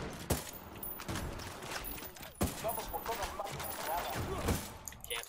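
Gunfire in the video game Ghost Recon Wildlands crackles in sharp, echoing single shots and short volleys spread across a few seconds, with mid-level game background noise around them.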